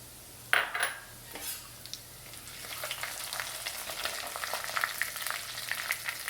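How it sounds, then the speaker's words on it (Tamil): Vadavam, a dried seasoning ball, drops into hot oil with a sharp initial crackle, then settles into steady close sizzling frying laced with faint clinks of a utensil against the pan, all for a curry of stingray fish. "எண்ணெய் நல்லா காஞ்சிட்டு இந்த நேரத்தில் இந்த வடவத்தை இதில் சேர்த்துக்குவோம்"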